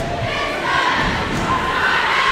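Girls volleyball team cheering in a gym, a loud burst of young voices shouting and chanting together in a reverberant indoor space, sustained across the whole moment.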